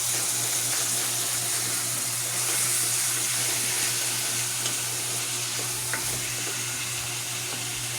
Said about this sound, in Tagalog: Magluluto naman kami ngayon ng pansit.